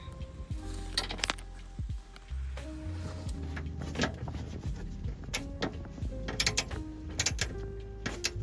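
A torque wrench tightens a Cusco strut tower bar on a Subaru WRX to 24 foot-pounds, with close ratcheting clicks and metallic clinks and a few sharper clicks breaking through quiet mechanical handling.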